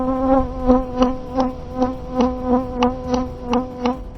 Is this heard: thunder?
no